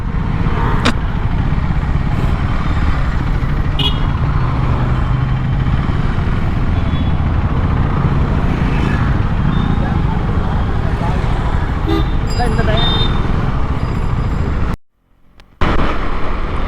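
Heavy evening traffic on a Chennai beach road, heard from a KTM Duke 390 in motion: a steady, loud wash of engines and road noise with occasional horn-like tones, ending in a brief drop-out near the end.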